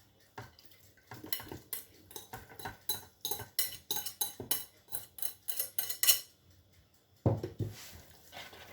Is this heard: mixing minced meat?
yes